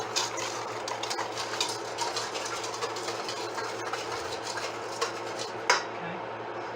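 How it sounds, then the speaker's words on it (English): A whisk stirs sugar, flour and salt together in a pan with a light, continuous scraping and tapping of metal against the pan, quiet and close, ending in a sharper clink. "and I'm going to whisk that together."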